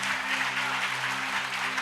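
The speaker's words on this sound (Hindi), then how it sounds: "ताली बजाओ, आप" A church congregation at a Sunday worship service applauds in a brief, steady wash of clapping, fairly even in loudness, with a low electrical hum beneath.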